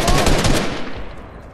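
Rapid automatic gunfire from a squad battle royale video game near the end of a match, loud and dense bursts of shots that fill the clip and fade slightly toward the end.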